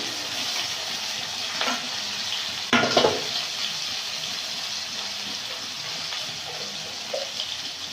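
Chopped onion, ginger paste and tomato frying in a pan in a village kitchen, a steady soft sizzle with a few louder stirring scrapes near the middle, no talk.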